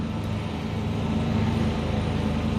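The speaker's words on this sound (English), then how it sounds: "I apologize for the lawnmower across the street." A lawnmower running across the street from a small garden, heard as a steady, continuous engine drone with a low hum that stays constant throughout, moderately loud with no speech.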